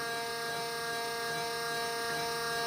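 Steady, even mechanical whine and hum from a Leblond Regal 19 x 54 inch engine lathe with its gears running at 40 RPM, continuous and fairly close with no talking.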